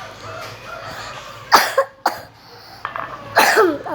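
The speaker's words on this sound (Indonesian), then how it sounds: "Aku lagi batuk guys." A person with a cough lets out three sharp, close coughs in separate bursts, the last one loudest, with quiet room noise between them.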